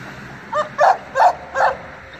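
A Cane Corso gives four short, whiny barks in quick succession, close and fairly loud against a quiet outdoor background.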